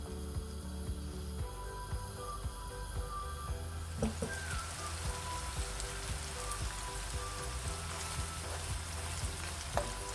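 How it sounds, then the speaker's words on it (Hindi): Onions sizzling in cooking oil in a kadhai over a gas flame, a steady crackling hiss with faint clinks, carrying on without talk. "गैस की फ्लेम में ऑन कर दूंगी। साथ इसमें प्याज डाल दूंगी मैं।"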